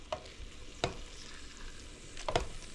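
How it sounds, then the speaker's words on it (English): Partly frozen meat, about three-quarters defrosted, sizzles steadily as it browns in a pan, with a few sharp scrapes of stirring cutting through the constant frying hiss. "let me brown this up just a little bit before I add the onions"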